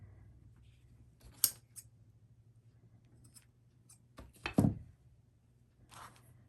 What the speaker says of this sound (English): I'm going to cut this end off a little bit here.